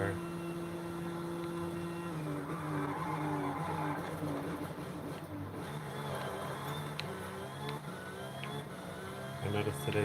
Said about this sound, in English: I think it's the sound of the car.